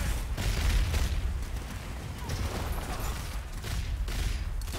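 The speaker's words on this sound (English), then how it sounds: "shot my grenade while it was in midair and made it blow up early" A grenade blown up early in midair in the game Strange Brigade: a rumbling explosive burst with scattered crackling booms and gunfire-like pops, dense and continuous, with faint voices underneath.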